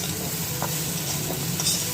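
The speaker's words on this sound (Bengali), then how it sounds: "আর এর মধ্যে এখন দেব আমি এই যে ভেজে রাখা কলাই ডালের বড়ি।" Pre-fried kalai dal bori (lentil dumplings) sizzle in a frying pan, a steady hiss mixed with stirring scrapes over two seconds.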